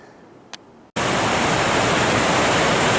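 A mountain creek, Collie Creek, below a steep burn area, bursts in abruptly after a brief quiet lead-in with one small click, then roars as a loud, constant, close rush of water.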